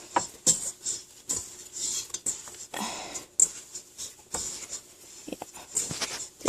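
Dinner roll dough scraped off the inside of a bowl, giving short, uneven scrapes and light taps in an irregular rhythm, close and fairly quiet with no talking.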